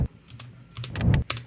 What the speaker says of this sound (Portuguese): tem um cliquezinho, não sei se dá pra escutar, um cliquezinho de leve